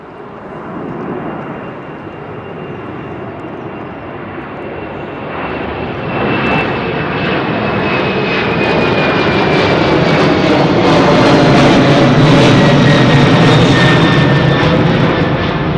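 A smoky older jet airliner at London Heathrow Airport roars steadily, swelling from a moderate rumble to a loud, close, sustained blast as it powers past.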